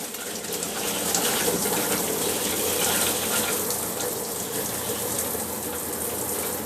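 Pink RV antifreeze gushes steadily from the shower faucet of a 2021 Keystone Hideout 175BH travel trailer during winterizing, a continuous close hissing splash of liquid with no talking.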